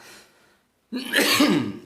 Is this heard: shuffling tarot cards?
no